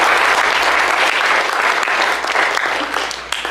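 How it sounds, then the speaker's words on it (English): A lecture audience applauds the speaker at the close of a talk on human cell types: dense, steady clapping from a full room that carries loudly throughout and thins slightly at the end. "A big round of applause for Julia."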